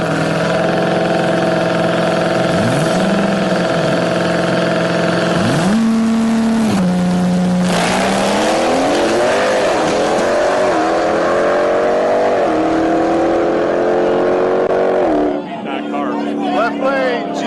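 A Dodge Durango Trackhawk and a Nissan GT-R street racing, their engines loud and close, revving and climbing in pitch through repeated accelerations over a constant mechanical drone, with voices in the background.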